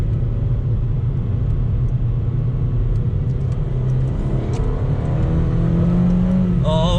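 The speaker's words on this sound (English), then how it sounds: "when you put your foot down, they do make a nice little noise" A Mazda 2 Sport engine rumbles steadily under throttle, its low drone rising in pitch toward the end as the small car accelerates, heard from inside the cabin with no talking.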